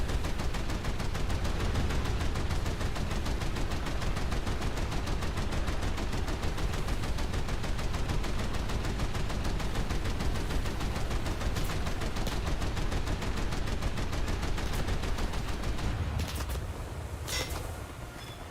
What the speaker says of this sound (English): I'm just going to try and shoot this T-14 because it's the only thing I can shoot at the moment.